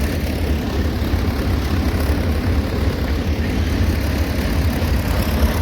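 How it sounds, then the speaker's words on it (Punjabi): Tractor engines run steadily while levelling a farm field, making a loud continuous low rumble and drone that stays at an even level throughout. "ਚਾਰ ਚਾਰ ਟਰੈਕਟਰ ਦੇ ਆ"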